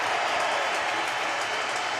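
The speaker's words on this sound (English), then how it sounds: "Leo Messi there with the boys receiving the applause of the whole stadium" Applause from a full stadium crowd at a Barcelona football match as Messi and his teammates parade a golden ball trophy; dense, steady clapping and crowd noise fill the whole moment without pause.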